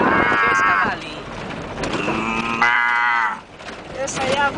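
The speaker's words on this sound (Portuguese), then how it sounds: "Essa aí é a vaquinha berrando." Cow mooing on a farm, a loud drawn-out bellow heard close and repeated, with people talking over it and a car engine faintly underneath.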